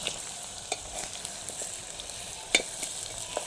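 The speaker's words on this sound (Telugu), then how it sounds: "వీటిని పక్కకు తీసేసుకుని ఉల్లిపాయలు వేసేసుకున్నాను" Onions frying in a pan for an ivy gourd and egg curry, a soft continuous sizzle with occasional faint stirring clicks and scrapes, close and quiet with no voices.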